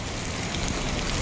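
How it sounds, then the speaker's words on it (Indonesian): Heavy rain pours steadily during a food-delivery run, a dense, even hiss of drops striking surfaces close by with no talk over it. "sekarang tengah hujan. Lebat."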